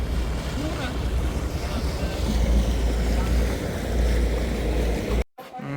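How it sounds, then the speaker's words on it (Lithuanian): Gondola gliding along a calm canal in Venice, with steady wash of water, wind buffeting the microphone and low rumble throughout, cutting off abruptly near the end. "Nu, bandysim dabar prasilenkt su kita gondola."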